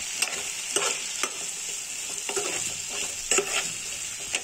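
Sambar ingredients are stirred in a sizzling pan, with a spoon scraping in irregular strokes over a steady hiss of frying, close and moderately loud with no talking.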